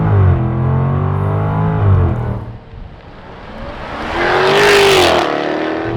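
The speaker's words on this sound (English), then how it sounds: "That upshift sound" A 2022 Jaguar F-Type R with a supercharged V8 and ZF 8-speed gearbox pulls hard from a launch, engine note rising through the revs, a brief dip at the upshift, then climbing again loud and close.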